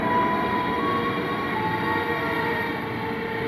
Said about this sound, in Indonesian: Nih KRL Nambo udah berangkat.